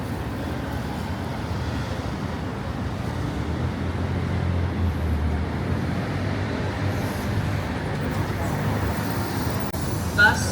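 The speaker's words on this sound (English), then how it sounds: "This is the bus that we have to take." City bus idling and moving through downtown traffic in Koreatown, a steady broad engine and road rumble with passing cars, continuous and fairly close, with a brief knock near the end.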